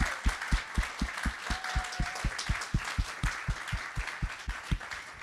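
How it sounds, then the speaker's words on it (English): A crowd at a child development center in West Haven, Connecticut, applauds, the clapping falling into a steady rhythmic beat of strong regular pulses over a bright wash of scattered hands. "Can we please just applaud Rosa?"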